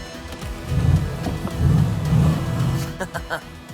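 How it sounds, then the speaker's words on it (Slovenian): A 2015 Porsche Cayenne S with a V8 diesel engine revs up close, giving a few deep, swelling rumbles followed by shorter throttle blips, loud and alone without talk. "No, V8 dizel pri Porscheju pa zveni takole."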